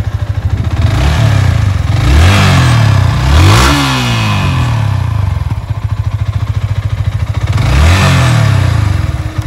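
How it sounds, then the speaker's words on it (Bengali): A used Yamaha R15 V3 dual-ABS motorcycle engine idles with a fast, pulsing beat and is revved up several times in loud, rising bursts that fall back to idle, close to the bike. "দেখেন বাইকটি কিন্তু এখন স্টার্ট দেওয়া হইতেছে।"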